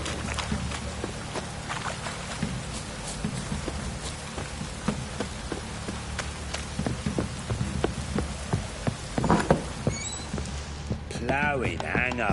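Steady rain patters and splashes across surfaces in The Witcher 3: Wild Hunt, with scattered heavier drops, and a voice briefly speaks near the end.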